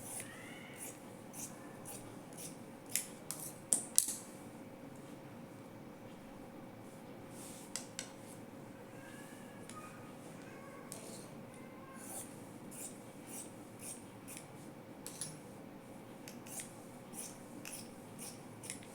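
Scissors cut a cross piece from blouse fabric in quiet, scattered snips and crisp clicks over a soft background hiss.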